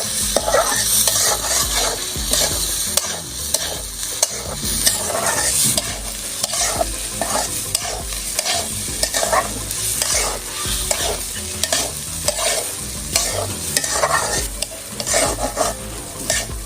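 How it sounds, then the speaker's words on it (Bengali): Rice grains being stirred and fried in oil in a pan for vegetable polao, with repeated scraping strokes of a spoon over a steady sizzle, close and fairly loud. "চালগুলো কিন্তু আমার সুন্দরভাবে ভাজা হয়ে গেছে"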